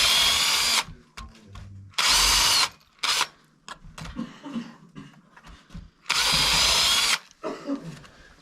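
A power drill drills pilot holes into a wooden door for the hinges. It makes three loud, whirring bursts of about a second each, and quieter handling clatter and clicks fill the gaps between them.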